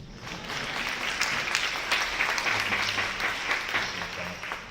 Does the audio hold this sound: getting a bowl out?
no